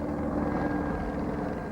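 Police helicopter in flight, a steady muffled rotor and engine drone held at a constant level and heard alone for under two seconds.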